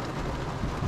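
Steady rain hiss with low gusting wind rumble, continuous and fairly close, no voices, at a lakeside campsite at Lake Camanche.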